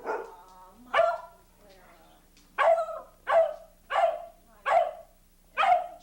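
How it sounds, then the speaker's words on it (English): A dog barks in sharp, loud bursts, several in a row with short pauses, some whining yips at the start. "Two dogs."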